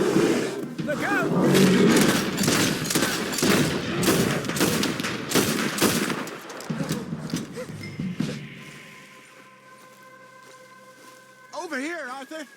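Rapid gunfire rings out during a legendary bear hunt in Red Dead Redemption 2, with dense repeated shots and a growling roar, then a quieter stretch with tonal music-like effects; in-game voices speak over the action.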